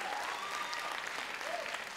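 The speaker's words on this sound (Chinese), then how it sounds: "掌声归给耶稣" Church congregation applauding during a Sunday sermon, a steady sustained clapping heard at moderate distance for the full two seconds, with faint voices underneath.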